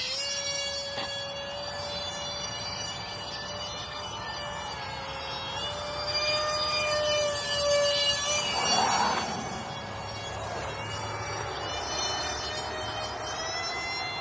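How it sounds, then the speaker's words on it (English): Steady high-pitched whine from the ducted fans of a small UMX A10 radio-controlled jet flying nearby, with layered harmonic tones that swell a little louder midway as it passes, then settle back. "But you can really hear just those ducted fans, that little whine."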